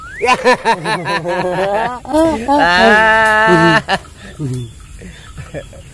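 A goat bleats repeatedly in loud, wavering cries, several bleats in quick succession with a long drawn-out call in the middle, close by, with people chatting around it.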